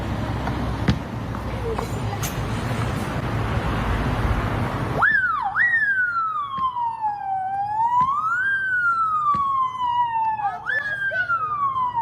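A police car siren wails loudly in rising and falling sweeps, taking over after several seconds of rough, noisy background, steady and prominent to the end.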